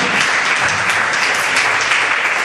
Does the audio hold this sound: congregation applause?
yes